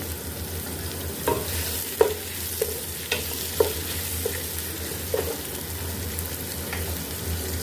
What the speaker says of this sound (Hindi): अब प्याज को हम फ्राई कर लेंगे।